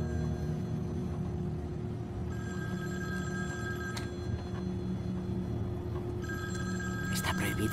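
A telephone bell rings in repeated bursts inside a moving car, with a steady low engine rumble underneath and people talking over it.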